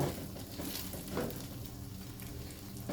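Cha-om (acacia leaf) omelette frying in a pan for a shrimp-paste chili dip meal, a steady close sizzle with soft crackling and light stirring throughout, no voices.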